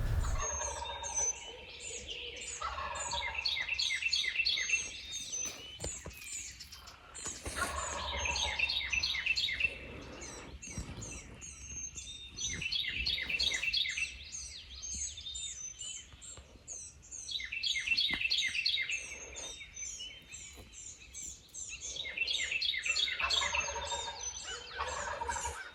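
A wild turkey gobbles repeatedly at a distance outdoors, with rattling bursts coming roughly every four to five seconds over a quiet natural background. No one speaks.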